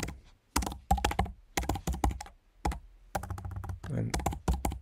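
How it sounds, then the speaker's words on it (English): Keyboard typing on a computer while setting up a membership website plugin, quick irregular clicking bursts interleaved with someone talking over it, close and moderately loud. "I'm really bad at typing today"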